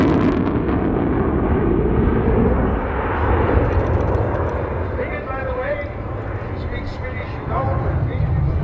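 A Swedish Air Force SAAB SK-37 Viggen historic-flight jet roars past at the Sanicole 2019 airshow, a loud broadband rumble that eases slightly midway, while a voice talks over it.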